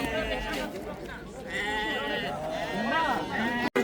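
Sheep bleat at the Urgut livestock market near Samarkand, with several wavering cries close by over steady crowd chatter while people talk nearby.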